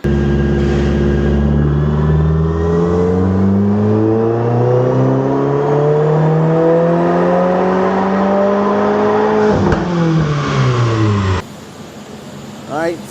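A 2022 Subaru WRX running an ethanol tune accelerates hard, its engine note climbing through the gears with rising pitch, a brief drop around a shift, then cutting off near the end as the run finishes.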